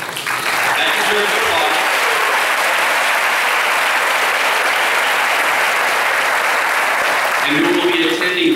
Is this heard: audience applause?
yes